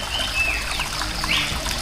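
Soft steady trickle of a forest stream's running water, with a couple of brief bird chirps rising over it.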